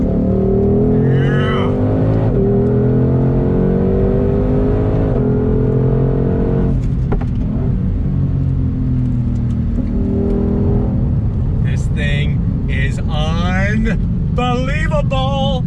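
A 2020 Ford Shelby GT500 engine revs hard under throttle, its harmonics rising steadily, then eases off as the car brakes; loud and close from inside the cabin, with people talking over it and whooping near the end.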